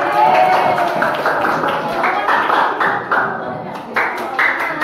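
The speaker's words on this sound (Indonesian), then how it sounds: "Tepuk tangan buat kelompok 1." A classroom of children clap for the first group, a busy stretch of claps and taps, loud and close, mixed with voices for the whole time.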